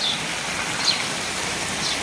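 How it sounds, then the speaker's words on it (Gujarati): Heavy monsoon rain pours down in a steady, even hiss, close and moderately loud, with faint high chirps that may be birds briefly poking through the downpour. "દેખાતી નથી બોલો, એટલો વરસાદ છે બોલો."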